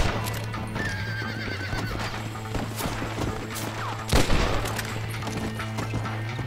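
Horse in the Red Dead Redemption video game on PC, neighing and whinnying over a rhythmic clip-clop of hooves, with a sharp gunshot-like crack about two-thirds through.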